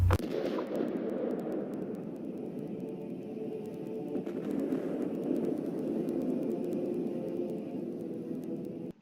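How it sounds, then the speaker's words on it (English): A deep, rumbling nuclear explosion roars continuously, loud and heavy, with a sharp initial blast decaying into a sustained low roar that fills the whole stretch. "If I find a nuclear explosion, I'm going to put it right here."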